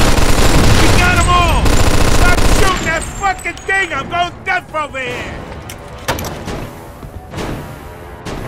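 MG42 machine gun in Mafia 2 blasting loud, rapid continuous bursts up close, followed by scattered single shots and clanks, with voices speaking over the gunfire.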